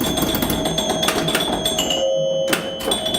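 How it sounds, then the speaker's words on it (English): A pinball machine's bell rings out in a loud, busy stretch of Star Wars homebrew pinball play, with sharp metallic strikes and sustained ringing tones over constant mechanical clatter. "And the bell."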